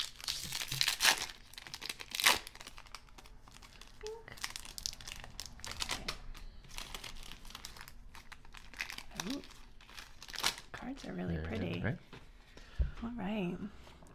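Foil packs of 2021 Topps Allen and Ginter Chrome trading cards crinkle and tear in short, close bursts, interleaved with quiet talking and card handling.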